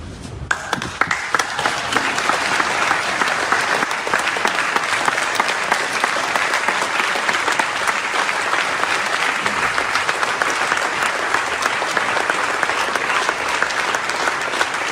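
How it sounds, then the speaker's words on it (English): An audience at a board hearing gives a standing ovation. Loud, dense applause starts abruptly and holds steady for the full fifteen seconds, with scattered sharp individual claps. "Yeah, a standing ovation for that."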